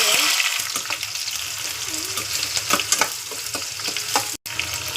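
Onion frying in a tempering of mustard, cumin and curry leaves for a kuzhambu, a close, steady sizzle with crackles and stirring scrapes, broken by a brief cut near the end.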